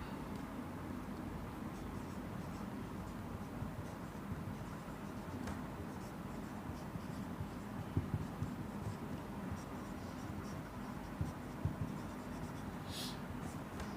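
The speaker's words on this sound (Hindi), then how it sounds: "तो इसके लिए हम लोग लिख देते हैं कि पोजीशन वेलोसिटी रिलेशन" Chalk or marker scratches faintly across a board as a physics equation on motion is written out in a classroom, a soft continuous scraping with occasional taps, under a steady background hiss.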